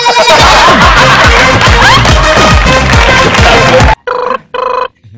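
On a Telugu television comedy stage, about four seconds of loud, dense stage noise and music give way to two short, sharp electronic telephone rings in quick succession.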